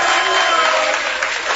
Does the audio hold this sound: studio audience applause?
yes